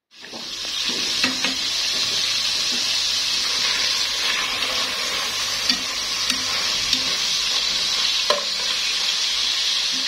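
Merguez sausages frying in a covered pan on the stove, a steady loud sizzle and crackle with a few small pops throughout, close up and with no talking.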